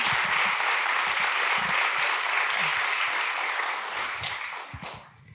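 Crowd at a business gala giving warm applause, a thick continuous roar of many hands that thins out and fades near the end.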